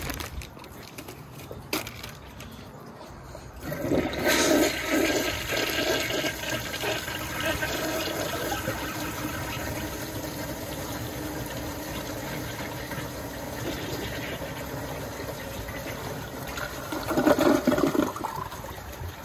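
A 1981 Kohler Highline toilet flushes a washcloth: a sharp lever clunk, then a loud rushing swirl of water that drains steadily and surges again near the end before refilling.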